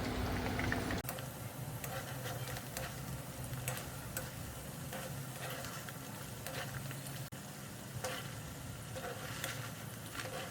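Dal pakodi fry in hot oil with a steady, crackling sizzle and occasional sharper pops, close and fairly quiet, continuing unbroken throughout.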